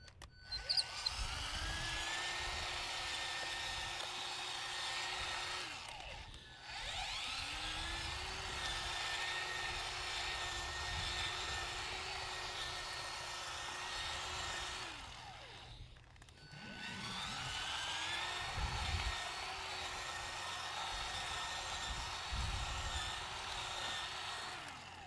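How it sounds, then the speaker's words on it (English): Garden cultivator churning soil in a raised bed, a steady loud motor drone in three long runs separated by brief pauses where the engine dips and revs back up. "we'll go back over it with the cultivator again"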